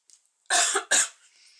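Two sharp, harsh coughs in quick succession, close by, caused by strong glue fumes while crafting an album, followed by a soft exhale.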